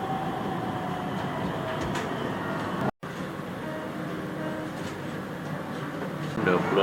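An MRT metro train on the Kajang–Sungai Buloh line rumbles steadily between stations, a continuous low roar with faint rail clatter heard from inside the carriage, with a brief cut partway through.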